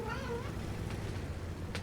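A real cat meows, a drawn-out wavering cry up close, followed by softer sounds over a steady low hum in a room.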